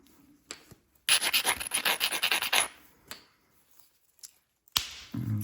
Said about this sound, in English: start beveling that edge a little bit, I can get that out of my way